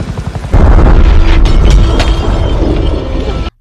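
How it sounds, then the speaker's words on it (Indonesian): A loud, deep boom erupts abruptly and roars on as a heavy rumbling blast of an aircraft exploding during a test flight, before cutting off sharply. "Pesawat lalu meledak dengan hebat."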